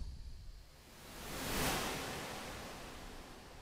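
Synthesized ocean waves from the auGenX sound app, a broad hissing wash of noise that swells to a peak and then slowly recedes, steady and alone without voices.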